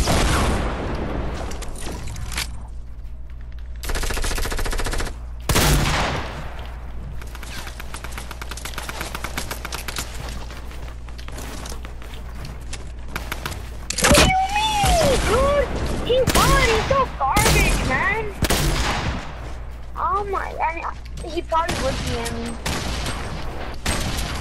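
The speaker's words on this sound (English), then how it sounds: "They're shooting. Oh, they shot me." Shooter video game firefight with repeated bursts of gunfire and booming impacts spread across the whole stretch, loud throughout, with people talking over parts of it.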